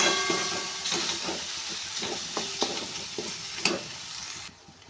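Methi bhaji with flour being stirred in a pan, a low sizzle under repeated scraping and tapping strokes of the spoon at an irregular rhythm, close and moderately quiet, no voices.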